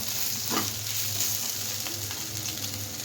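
Potato pieces fry in hot oil in a pan with a steady, close sizzle. A few scraping stirs sound through it.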